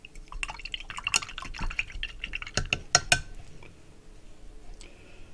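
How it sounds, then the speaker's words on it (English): A paintbrush is rinsed in a cup of water, with close splashes, drips and light clinks against the container coming in irregular bursts before settling to quiet. "I want you to rinse your brush"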